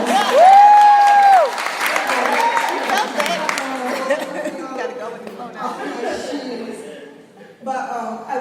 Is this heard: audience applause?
yes